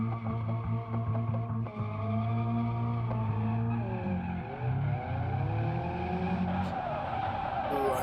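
Car drifting in the BeamNG.drive racing game, its engine droning steadily under long, wavering tire squeals that rise and fall across a single right-hand drift through two gates, loud and continuous.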